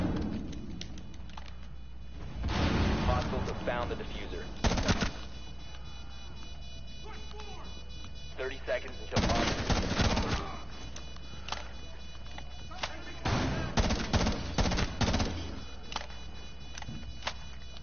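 Gunfire in Rainbow Six Siege, with several dense bursts of shots in clusters separated by quieter stretches of in-game noise, loud and close.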